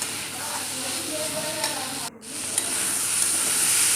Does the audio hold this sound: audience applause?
no